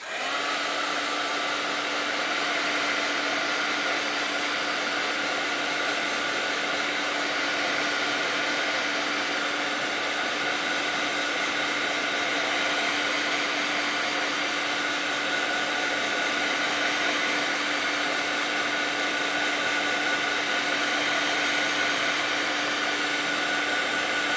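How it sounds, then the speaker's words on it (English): A heat tool blows hot air over a wet watercolor painting of a ghost cat, giving a loud, constant fan roar with a steady hum that runs unbroken from start to finish, with no one speaking. "In fact, you can use your heat tool on this."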